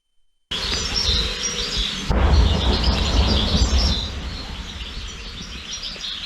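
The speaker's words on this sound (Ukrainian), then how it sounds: "Птахи співають" Birds chirping and singing outdoors in a village in Ukraine's Dnipropetrovsk region over a loud, rough background rumble of flying drones, continuous throughout.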